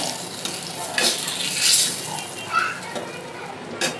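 Pieces of rohu fish frying in oil: a dense, bright sizzle with a few sharp clinks of a utensil against the pan, heard close with faint background voices.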